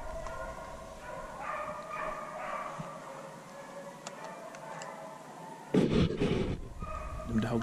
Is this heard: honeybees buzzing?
no